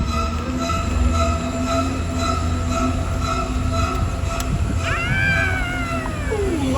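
A Universal Studios Hollywood tour tram rolls along with a steady loud rumble and continuous drone, joined near the end by rising, bending metallic squeals from its wheels; no one speaks.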